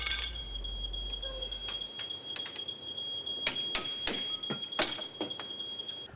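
A smoke alarm sounds a steady high-pitched electronic tone, with a few sharp clicks and taps breaking through partway along.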